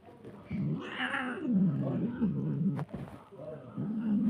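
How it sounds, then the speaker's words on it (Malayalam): A pregnant house cat gives drawn-out, wavering meows and low moaning cries close by, several calls in a row with brief breaks between them. "ഇതാണ് ഗർഭിണി പൂച്ചാണ്."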